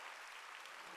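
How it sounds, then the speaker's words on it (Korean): A church congregation applauds at a Sunday worship service, a dense, even wash of many hands clapping together, loud and continuous for a brief moment. "박수로 하나님께 영광 돌리고"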